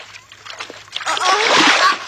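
Water splashes and sloshes in an animated cartoon as a character swims, a close, bright burst of splashing that swells in the second half, with voices talking.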